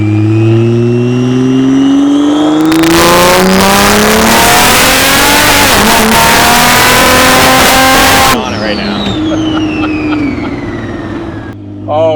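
Dodge Viper swapped with a Hurricane engine, running loudly: a rising engine tone swells into a harsh, roaring rev that holds for several seconds close up, then drops back to a steadier idle-like drone.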